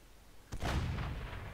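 An artillery shell strikes a tank in World of Tanks, landing as a sudden heavy boom at about half a second that rolls on as a loud, rumbling decay.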